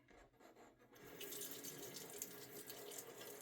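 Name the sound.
water running from a tap for a shaving bowl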